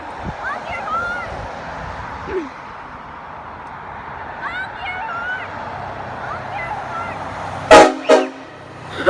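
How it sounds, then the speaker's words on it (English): Car horns honking on a street, two short loud blasts near the end after a stretch of traffic noise and distant talk. "Honk your horn! Honk your horn!"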